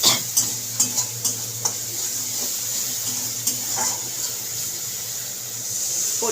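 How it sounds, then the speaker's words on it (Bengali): Spices frying in a pan for a fish curry hiss with a steady sizzle. A spoon stirs them, making several sharp scraping clicks early on, then the sizzle carries on alone. "মশলাগুলো ভাজা হয়ে গেছে"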